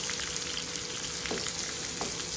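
Chopped onion and two green chilies fry in hot oil in a pan, a dense, steady sizzle with a couple of faint stirring scrapes and no talking.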